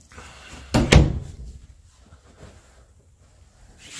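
A standard wire-rack closet door inside a single-wide mobile home swings shut with one sharp thump near the start, followed by a faint rattle and then quiet room tone.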